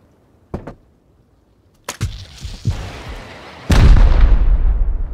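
Shots fired at a turret in Rust: a couple of sharp cracks early, then a louder report with scattered hits, ending in a big booming blast with a long rumbling decay, with no talking.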